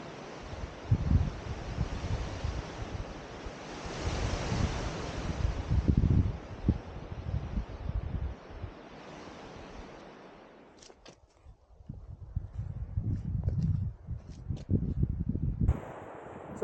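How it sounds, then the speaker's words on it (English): Strong wind roars through a mountain forest near the tree line, a loud, steady rush that eases briefly and then returns in fresh gusts, with no voices. "The wind most certainly has come up"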